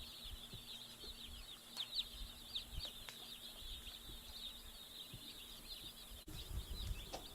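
Cornish Cross chicks in a pallet-built brooder give off a steady, fairly faint stream of high peeping and chirping, many birds calling continuously at once with no single voice standing out.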